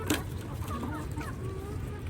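Domestic chickens cluck softly and intermittently in a quiet yard, the calls faint and distant against low background noise.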